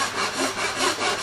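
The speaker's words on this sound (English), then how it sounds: "So I actually start sawing about halfway from each direction." A hand saw rasps through wood in quick back-and-forth strokes, about three rhythmic pulls, close and clear.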